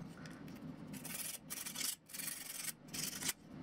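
Close, dry rasping of a file on the wire-wrapped tip of a caduceus comes in short repeated strokes with brief pauses between them, quiet and alone.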